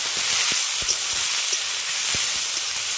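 Spiny gourd and potato pieces fry in a pan, giving a steady, close sizzling hiss that runs unbroken throughout, with a few faint low pops and taps beneath it and no talking.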